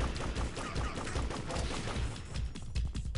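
Heavy, continuous gunfire in the shooter game Devastation, overlapping bursts of rapid shots and impacts forming a dense, loud barrage with no talk over it.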